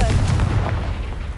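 Confringo spell exploding in a Hogwarts game, a heavy, loud boom with a low rumbling tail that carries through the brief moment.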